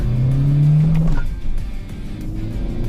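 A Volkswagen Caddy 2.0 TDI Comfortline diesel with 347,000 km pulls away from a stop, its engine note rising loudly and close as it accelerates over a few seconds.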